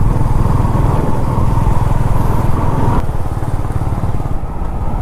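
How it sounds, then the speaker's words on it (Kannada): A motorcycle rides along the Mullayanagiri hill road in Karnataka, its engine a loud, close, steady drone throughout, with the tone shifting slightly partway through. "ಈ ರೋಡಲ್ಲಿ ಈ ಥರ ಬೈಕ್ ತಣ್ಣಗೆ ಗಾಳಿಯಲ್ಲಿ ಓಡಿಸಿದ್ರೆ ಅದು ಕ್ರೇಜಿ"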